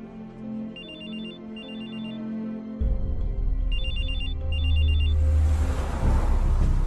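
A telephone rings on an outgoing call in a dubbed film, with short ring bursts repeating over a low hum, followed by a louder rush of rumbling noise.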